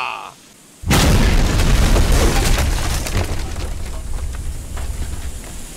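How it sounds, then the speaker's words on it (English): A gas canister blows up in the video game Cooking Simulator: a sudden loud boom after a brief lull, followed by several seconds of dense, roaring debris and crackle that slowly tails off. "Oh, there was a gas thing there, wasn't there? Oh, that's what's been exploding."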